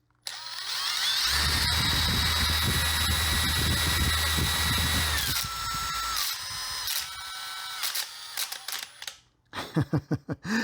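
A Makita power drill spins a tool at high speed, giving a loud, steady whine with a low hum for several seconds, then winding down and stopping, followed by brief knocks and handling sounds.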